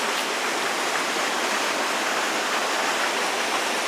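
High river water rushes under a bridge, the flood nearly reaching the bridge's underside. The roar is a steady, dense wash of noise that stays loud and even throughout, with no voices.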